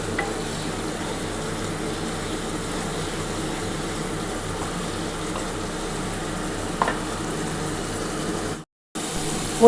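Spice paste for a spiny gourd (kakrol) curry fries in a pan with a steady low sizzle and faint stirring, then cuts out briefly near the end.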